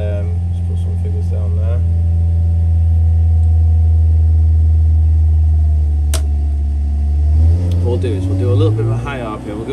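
Hillman Imp 1150 race engine running steadily on a dynamometer, a loud continuous drone with a deep hum that shifts pitch near the end as the load is backed off, plus a sharp click midway; a voice speaks briefly toward the end.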